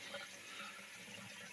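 Water runs steadily through a portable base camp shower, a constant broadband hiss and splash holding at a moderate level without a break.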